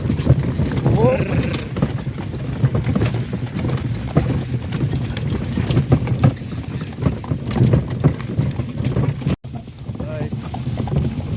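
A pair of draft horses pulls a cart along a snowy winter road, their hooves clip-clopping in a steady rhythm close by, with wind noise and people talking over it.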